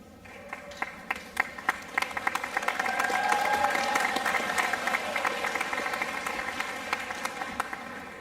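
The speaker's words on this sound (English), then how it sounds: "you should applaud us even more than that because it's almost over." Commencement audience applause in a large gathering, scattered claps swelling into a full, steady round that holds and slowly eases, heard from a moderate distance.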